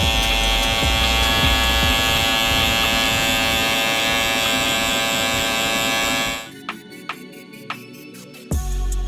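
An electric hair clipper buzzes loudly and close while cutting a high-fade buzz cut. The drone holds steady for about six seconds, then cuts off, leaving a few short clicks and a brief final burst.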